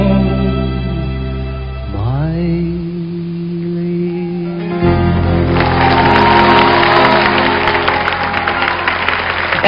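Concert audience applauding, clapping rising after music fades and swelling into loud, dense, sustained applause filling the hall.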